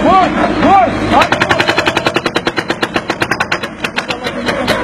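An excavator boom strikes again and again at a construction site, a loud rapid train of sharp banging impacts, roughly five per second, following a couple of shouted calls at the start.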